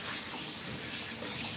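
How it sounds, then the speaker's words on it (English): Water from a tap rinsing a Persian cat's tail during a bath, a soft continuous gushing splash for a moment with no talking. "Just gotta get your tail rinsed."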